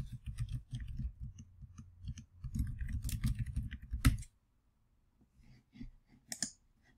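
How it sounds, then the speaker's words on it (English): Keywords being typed on a computer keyboard, a close, dense patter of keystrokes in two bursts, then silence, followed by a few scattered, fainter clicks. "you can type in your keywords."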